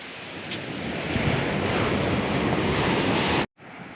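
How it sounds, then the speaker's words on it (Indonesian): Foaming ocean waves washing onto Sine beach, a broad continuous surf roar with wind buffeting, ending in a sudden brief cutout. "Di pinggir itu berbuih ombaknya."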